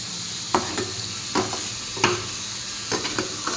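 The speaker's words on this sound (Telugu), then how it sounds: "ఇప్పుడైతే కొంచెం దాన్ని కలుపుకుందాం" Egg curry is stirred in a pan over a steady low sizzle, with a spoon scraping and clinking in several distinct strokes at irregular intervals, close and unaccompanied by talk.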